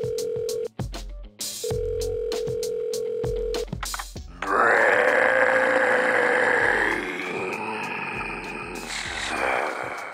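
A phone in the video game Saints Row 2 dialing 555-5966: a series of short, evenly spaced keypad tones, clear and close, followed by a lingering line tone, then engine-like game ambience rumbling underneath.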